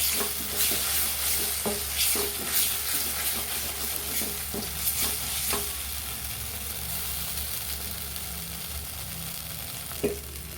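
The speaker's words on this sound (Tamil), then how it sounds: "முந்திரி பருப்பையும் சேர்த்துட்டு இதை நல்லா ஒரு கிளறி விட்டுருவோம்" Masala with cashews is stirred in hot ghee in a pan for Mangalore ghee prawn roast. A steady sizzle runs under close scraping stirs that come in an irregular rhythm, and the frying continues alone at the end.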